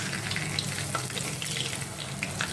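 Cauliflower chapli kababs frying crisply in a pan, a continuous moderate sizzle with small crackles throughout, heard up close without talk.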